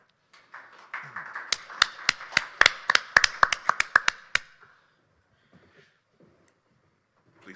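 A small audience at a medical conference session on coronary bypass grafting claps briefly after a speaker introduction, a dozen or so distinct sharp claps over about four seconds that fade out into near silence.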